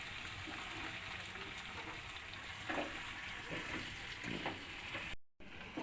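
Ginger paste and ground spices fry in hot oil, a steady close hiss and crackle with occasional louder spatters throughout, with no voices.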